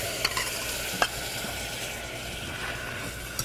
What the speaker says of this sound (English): basically what we're just caramelizing the sugar here